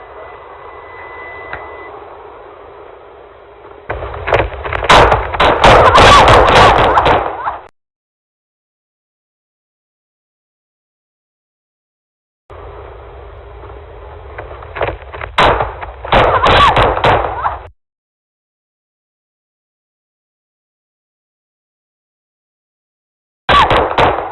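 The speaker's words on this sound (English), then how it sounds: "Help, shots fired." Gunshots fired at a US female police officer during a traffic stop come in two loud, rapid clusters of sharp cracks over radio-like static hiss, with another burst beginning at the very end.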